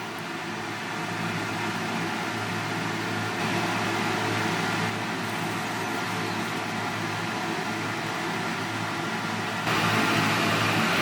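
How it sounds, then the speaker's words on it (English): A vacuum tube steadily drawing liquid off inquarted gold sitting like mud, giving a continuous broadband suction hiss with a low hum that holds evenly throughout and grows slightly louder near the end. "We're going to draw this liquid off with my vacuum tube here."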